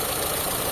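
A Mitsubishi Lancer GSR engine, misfiring and down on power, idles roughly with a steady, dense mechanical rumble and faint knocking vibration, heard close for under a second.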